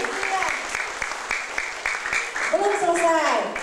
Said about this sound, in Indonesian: Tepuk tangan hadirin.